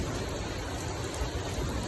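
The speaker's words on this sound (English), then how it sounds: "Overall, it is raining" Heavy rain pours steadily as a dense, even hiss of broadband noise, with no break across the short stretch and no one speaking.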